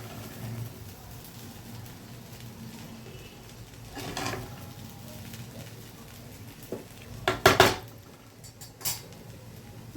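Poha being stirred and tossed in a pan with sugar added, soft scraping and rustling with a few sharper metallic clinks of a spoon against the pan near the end.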